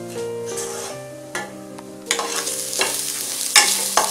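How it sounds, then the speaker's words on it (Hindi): Shredded cabbage, capsicum and other vegetables for veg fried rice are stirred in a hot pan, with uneven spatula scrapes and clatters over a moderate sizzle, no talking. "अब हम इसे मिक्स कर देंगे और इसे 4 से 5 मिनट तक पकने देंगे।"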